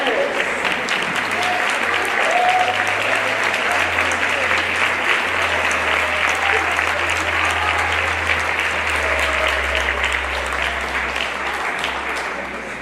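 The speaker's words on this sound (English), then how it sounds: "if you can please stand up so we can give you a round of applause," Sustained audience applause for panelists at a luncheon during a grassroots political conference, loud dense clapping filling the room for over twelve seconds, with a low murmur of voices beneath.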